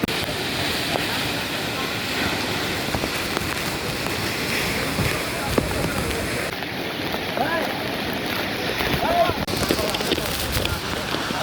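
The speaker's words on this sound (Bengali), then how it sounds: "প্রচণ্ড পানির কারণে প্রচণ্ড বাতাস হচ্ছে এখানে।" Strong wind driven by the spray of Langlok waterfall near Thanchi in Bangladesh, a loud continuous roaring rush that stays steady throughout, full and close without letting up.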